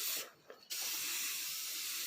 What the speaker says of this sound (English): So I specialize in white spray painting